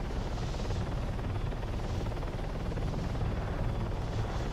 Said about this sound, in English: That's a big helicopter.